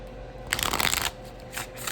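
A deck of cards being riffle-shuffled, a quick burst of crisp fluttering clicks, then a shorter second riffle near the end.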